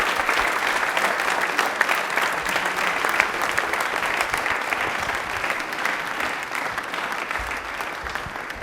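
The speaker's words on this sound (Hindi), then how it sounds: "योगेश के लिए एक बार तालियां जोरदार हो जाएंगी." A studio audience on a televised quiz show claps steadily and loudly for a contestant, a dense, sustained round of applause with little else heard.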